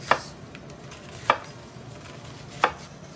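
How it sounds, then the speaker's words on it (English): Three evenly spaced, crisp knife chops cut a peeled vegetable into rounds on a board, each a sharp close thunk with quiet pauses between and no talking. "I'm gonna cut this into some circles"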